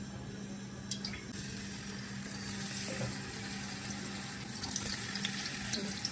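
Small Dubai sardines (pottan mathi) fry in a little oil in a pan, giving a steady, broad sizzling hiss throughout with faint scattered pops and no talking.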